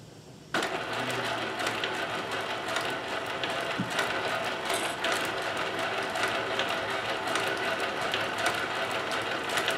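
Singer 72W19 industrial sewing machine starting up abruptly and running continuously, a fast rattling, clattering mechanical whir with ticking gear noise, steady and close throughout.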